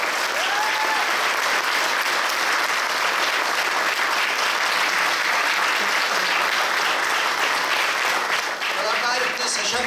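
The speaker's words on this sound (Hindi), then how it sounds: "एक बार सभी तालियां बजाकर दर्शकों का भी स्वागत करें" Sustained, loud applause from a large theatre audience at a stage play, steady clapping filling the whole stretch with crowd noise underneath.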